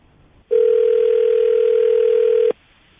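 A steady telephone dial tone sounds on an open line, holding at one pitch for about two seconds before it cuts off abruptly, loud and clear with no talking over it.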